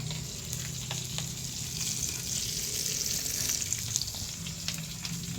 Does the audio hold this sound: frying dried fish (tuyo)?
yes